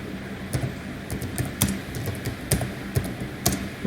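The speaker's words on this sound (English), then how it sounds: "let's just try typing some name here" Typing on a computer keyboard while entering data into an Excel spreadsheet: close, irregular key clicks in short bursts with brief pauses, heard alone without talk.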